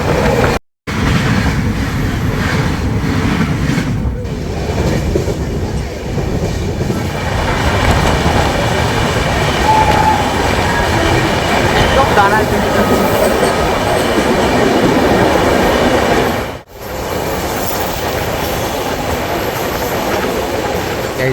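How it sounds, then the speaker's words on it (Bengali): A train rumbles steadily in heavy rain, its heavy low-pitched noise continuing without pause as it rolls into Kishanganj station and slows, with a few brief dropouts. "এই মাত্র ট্রেন এসে থামলো কিষানগঞ্জ"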